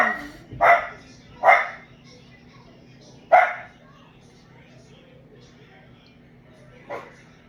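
A dog barks several times in short, loud bursts with gaps between them, then gives one fainter bark near the end, heard close by over a low background hum.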